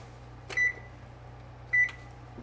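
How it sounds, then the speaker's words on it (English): An oven's control panel sounds two short electronic beeps about a second apart while it is being set to preheat to 350 degrees, each tone clear over a low steady background hum. "First thing I want to do, though, is preheat my oven to 350 degrees."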